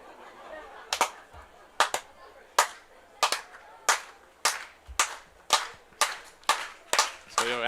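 Baseball fans clap in unison in the stands at a Guelph Royals home game, a run of sharp, evenly spaced claps about one per second that keep going, loud and close with light crowd noise between.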